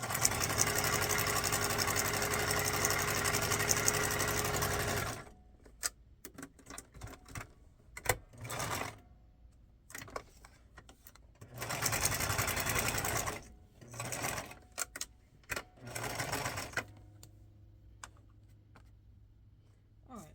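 A sewing machine stitches together paper and fabric scraps, running in one long continuous burst and then in several shorter start-stop runs separated by quiet pauses.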